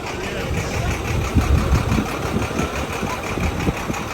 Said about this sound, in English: here comes more buses.